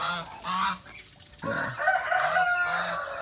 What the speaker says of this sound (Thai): แม่เทานี่เป็นแม่ไก่ชนด้วยนะครับ